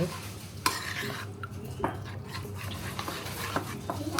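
Sauce, egg and meat beaten together in a bowl for a marinade, heard as a steady, busy scraping and stirring with sharp utensil knocks against the bowl, close and continuous.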